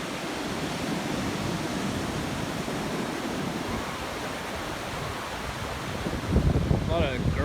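Ocean surf at San Buenaventura beach rolls in as a steady broadband wash, continuous and fairly loud, with a slightly stronger surge near the end.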